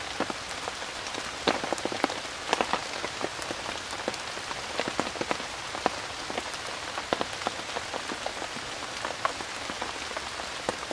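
Heavy rain pelts a tarp overhead in a dense, constant patter, with sharper drips and splats scattered throughout.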